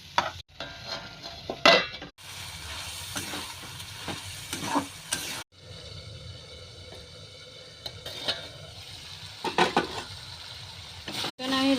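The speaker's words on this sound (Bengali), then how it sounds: "মশলাটাকে ভালো করে কষে নেব।" Chicken with salt and spices being stir-fried and cooked down in a pan for chicken kosha, with a steady sizzle broken by repeated scraping and clattering stirs of a utensil against the pan, close and fairly loud.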